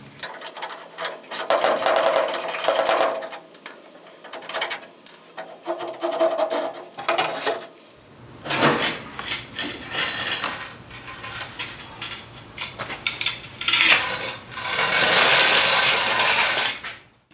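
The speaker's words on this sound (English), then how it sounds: "I'm going to remove that bolt, which will allow me to take the spring out" A ratchet wrench clicks in bursts of rapid ratcheting, loosening a leaf spring shackle bolt on a C10 truck rear suspension, with pauses between runs and a denser stretch of mechanical clicking later.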